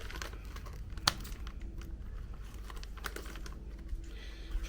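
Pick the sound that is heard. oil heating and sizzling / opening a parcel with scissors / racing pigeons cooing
opening a parcel with scissors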